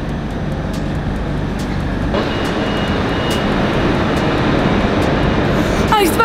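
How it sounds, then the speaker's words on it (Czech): A Czech Railways Railjet train at a station, a steady loud low rumble and hum of the train and station machinery with faint clicks and a brief squeal near the end, no talk. "Tady tímhle railjetem Českých drah jsme přijeli."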